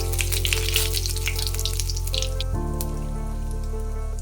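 Cumin, bay leaf and whole dried chillies dropped into hot oil in a kadai, giving a loud crackling sizzle that spits and pops over a steady hum, then settles into a quieter steady fry.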